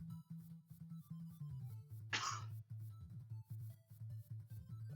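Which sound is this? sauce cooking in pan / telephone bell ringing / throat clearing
throat clearing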